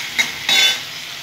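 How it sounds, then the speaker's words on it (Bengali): Onions sizzling in hot oil in a pan, a short steady frying hiss with a couple of soft stirring scrapes, heard close up. "খুব সুন্দর করে আমি পেঁয়াজগুলো ভেজে ভেজে নেব"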